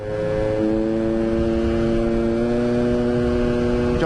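A brand-new quad engine running through its break-in, a steady, loud, close droning hum with strong even tones that holds without pause from start to finish.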